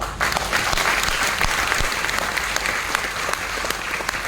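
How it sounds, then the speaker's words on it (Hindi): A seated audience at a direct-selling business seminar in Jalandhar claps steadily and densely throughout, a continuous wash of hand claps close and loud. "सर के लिए एक बार ताली बजा दो।"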